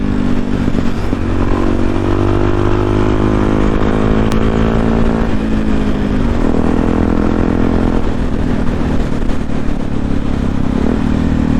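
A somewhat heavy supermoto-style motorcycle roars loudly while being ridden, its engine note climbing and dropping with gear changes over steady wind and road rumble.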